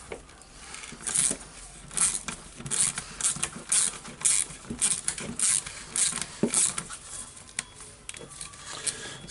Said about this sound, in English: so just taking out the screws.